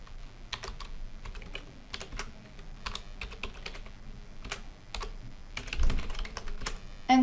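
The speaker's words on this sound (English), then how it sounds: "Type in the recall reason in the field" Typing on a computer keyboard while entering text into a form field: quick, light clicking keystrokes in short bursts, close and fairly quiet, with no talking.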